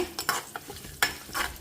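Tempering of cumin, mustard seeds, dried red chillies, curry leaves and asafoetida sizzling in a pan, with soft crackles and a few brighter spits and stirring scrapes, close and moderately quiet.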